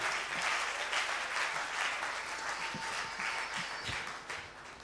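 A church conference congregation in Brazzaville breaks into sustained, dense applause: many hands clapping together in a loud, steady wash that continues throughout.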